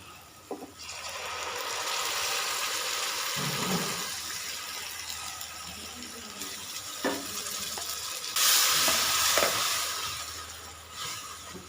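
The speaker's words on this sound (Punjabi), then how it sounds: "ਪਿਆਜ਼ ਆਪਣਾ ਭੁੱਜ ਗਿਆ ਏ ਹੁਣ ਆਪਾਂ ਵਿੱਚ ਟਮਾਟਰ ਪਾ ਦਾਂਗੇ" Tomatoes tipped into frying onions in a pan, for white chana cooked halwai style, bring a steady close sizzle and hiss with stirring and scraping and a louder burst of frying partway through, no voices.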